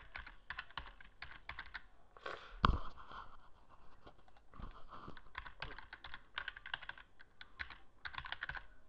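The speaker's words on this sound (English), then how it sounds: "I'm going to type in my password" Rapid bursts of typing on a computer keyboard while a password is entered, with uneven clusters of keystrokes and one louder clack partway through, close and fairly quiet with no talking.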